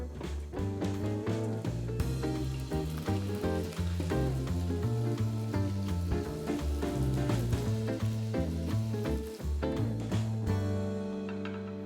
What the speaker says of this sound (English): I'm going to finish frying these up